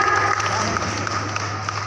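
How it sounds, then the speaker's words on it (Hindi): Loud applause from the audience at a Women's Day honouring ceremony for women in Jharkhand, a steady wash of clapping that holds throughout with a voice over a loudspeaker cutting through it. "जोरदार तालियां आपकी तरफ से बजती रहनी चाहिए"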